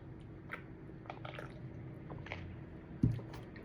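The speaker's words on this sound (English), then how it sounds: "Sorry, I know I'm chewing my gum" Gum chewing close to the mouth: soft, moist squishy chews spread irregularly across the moment, with one sharper click near the end, alone with no talking.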